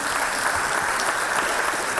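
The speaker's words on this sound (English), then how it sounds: "that loud ass clapping" Dense, loud audience clapping in a hall, a steady wash of many hands sustained evenly from start to finish without any talk over it.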